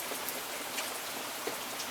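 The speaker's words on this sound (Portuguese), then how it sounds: "mais chuva" Out-of-season rain falls steadily outdoors, a dense even patter with scattered louder drops and no voices.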